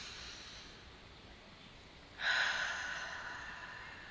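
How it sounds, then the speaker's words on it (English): One slow, deep breath in, drawn audibly through the nose and starting about halfway through. It is soft and close against quiet room tone, with no talking. "inhaling deeply and more slowly, I'm able to calm my nervous system."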